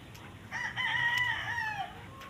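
A rooster crows once in a backyard among chickens, a loud, close, drawn-out call rising and falling over faint background clucking.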